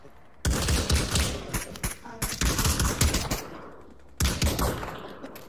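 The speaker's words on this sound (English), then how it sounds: "Someone's using a shotgun. A strong guy using shotgun." Shotgun blasts in the Pavlov VR shooter game: loud, close bursts of firing in three clusters with short gaps between, and a faint voice underneath.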